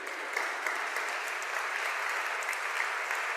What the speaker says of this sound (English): I do think everyone who puts the auction together every year deserves all the applause we can give them.